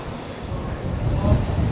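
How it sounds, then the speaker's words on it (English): Strong wind buffets the microphone outdoors near the statues of British comedy legends, a low rumbling roar that builds steadily louder over a couple of seconds. "It's windy here today."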